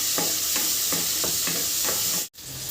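Sliced tomatoes sizzle and are stirred in a pan for paneer butter masala, a steady frying hiss with rhythmic spoon scrapes about every third of a second, close up.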